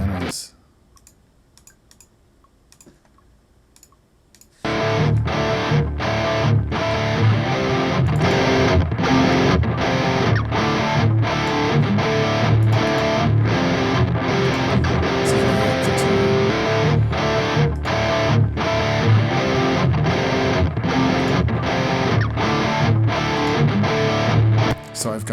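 Heavily distorted electric guitar plays through a Soldano amp sim plugin, entering after a few quiet seconds with loud, dense rhythmic chugging and short choppy breaks that carry on to the end.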